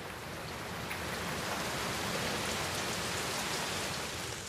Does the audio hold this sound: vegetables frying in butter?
no